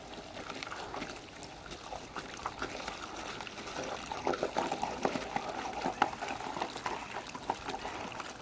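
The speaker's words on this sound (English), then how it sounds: "let's start using that water wand" A water wand sprays a steady stream into a core hole, a continuous rushing, gurgling hiss with splashy surges that grows slightly louder and more turbulent partway through.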